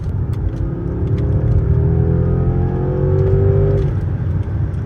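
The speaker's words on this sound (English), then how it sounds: "It's kind of scary when a car this big gets up to speed" Mercedes S580 sedan accelerating hard up to speed, a loud low engine rumble with rising revving tones climbing through the gears over steady road noise.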